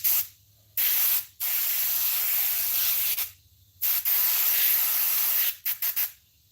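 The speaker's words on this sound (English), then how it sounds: "As I said, dirty airbrush." A dirty airbrush sprays paint during prop head painting, giving close, loud bursts of hiss that start and stop in several separate presses, with short quiet gaps between them.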